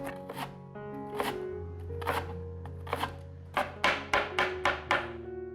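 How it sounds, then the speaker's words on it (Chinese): A knife dices carrots on a cutting board, with about ten crisp, close chops over soft background music. The first chops are sparse and spaced apart, then the last ones come in a quick, even run. "把红萝卜切成小丁"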